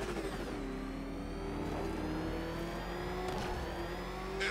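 The Batmobile's engine in a video game gives a steady, close mechanical whir with rising and falling revving tones, heard alone without talk.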